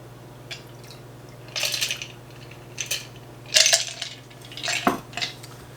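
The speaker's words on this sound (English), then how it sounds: "Using our Hawthorne strainer, give it a pour." A rum and tequila Old Fashioned cocktail pours through a Hawthorne strainer over ice with clinking, rattling bursts against glass and metal, several short splashy clatters over a steady low hum.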